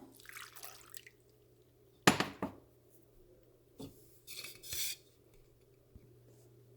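Water splashes into a cooking pot of pumpkin in a short burst, followed by clinks of utensils against metal and a few drips, close by with steady low hum underneath.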